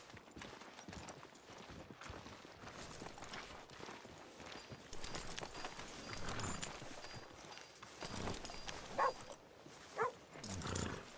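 Horse hooves clip-clop in Red Dead Redemption 2 on Xbox Series X, a loose run of hoof knocks in a street scene, mixed with dog-like yips and faint background voices.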